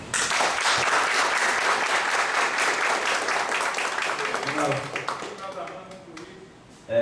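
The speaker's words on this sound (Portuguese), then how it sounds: "Uma salva de palmas." Audience applause at a lunch talk event in Brazil, a full dense round of clapping that fades after several seconds as voices begin talking over the last scattered claps.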